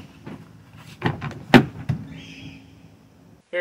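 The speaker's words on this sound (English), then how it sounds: "Let's get this door open." The door of a Ram ProMaster van fitted with a ThunderBolt lock is unlatched and opened. Several sharp clunks and clicks are followed by a softer sliding rustle, close by and moderately loud.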